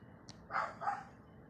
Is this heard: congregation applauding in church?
no